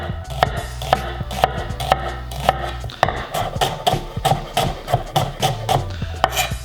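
A knife scores and chops through the leftover butt of an onion, producing a steady run of crisp, close chopping taps with a short pause partway through.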